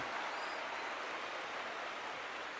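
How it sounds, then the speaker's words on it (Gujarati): Steady applause from an audience honoring children at a spiritual discourse, a faint, even wash of clapping that holds for the whole stretch with no voices over it. "જોરદાર તાળીઓ એ તમામ બાળકો માટે થઈ જાય."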